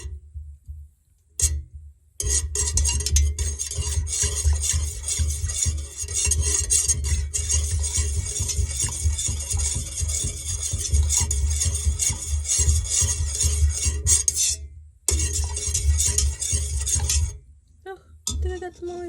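A spoon stirring candle wax pieces in a container, a long stretch of dense scraping, rubbing and clinking with a couple of brief pauses before it stops near the end.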